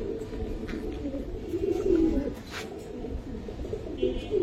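Long-bodied Giribaz flying pigeons coo close by in a loft, giving repeated low throaty rolling coos over a mild background hum, with faint chirps and no talking.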